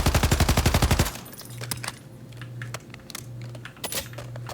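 Rapid automatic gunfire from a weapon in the video game Warzone: a loud burst of about a dozen evenly spaced shots, then quieter game sounds and scattered small effects.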